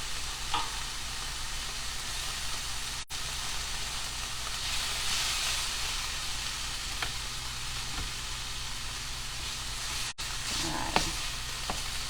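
Tomato paste cooks and spreads in a pot with a soft, continuous sizzle and occasional stirring scrapes and clicks, heard up close at low volume; a voice briefly speaks once.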